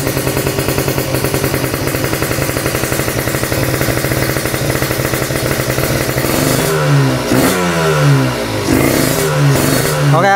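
Two-stroke Kawasaki Ninja motorcycle, left unstarted for two months, idling close with a rapid rattling putter, then blipped through several sharp rising revs that fall back between throttle bursts.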